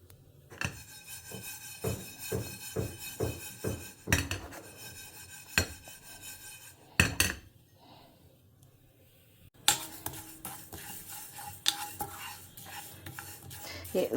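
Moong dal dry roasting in a cast iron pan, stirred with a utensil that scrapes and rattles against the metal in repeated strokes, close, with brief pauses and no talking.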